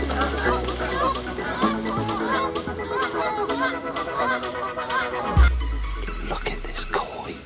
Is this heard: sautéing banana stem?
no